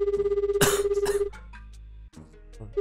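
A telephone rings with a steady, repeating electronic tone and a couple of loud noisy bursts over it, then the ringing cuts off and softer clattering sounds follow.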